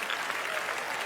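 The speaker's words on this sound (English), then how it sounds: "You don't have to hold the applause inside" A TED audience claps in a brief, fairly soft burst of steady applause lasting only about a second.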